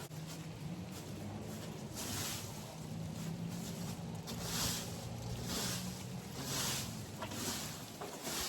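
A leaf blower engine runs steadily outdoors at close range, its droning hum joined by broad gusty rushes of blown air that swell and fade throughout.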